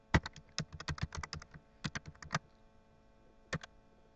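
Fast bursts of computer keyboard typing as a username and password are entered, a quick run of close, crisp key clicks, a short pause, then a final few keystrokes, with no talking.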